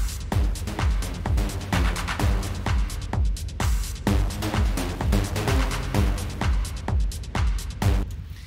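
A compressed techno synth lead plays a punchy repeating pattern of bright, clipped notes over a thudding kick pulse, steady and fairly loud from start to finish.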